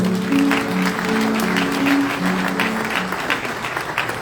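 Audience applause at the opening ceremony of a Brazilian cardiovascular surgery congress, sustained clapping over low sustained background music tones.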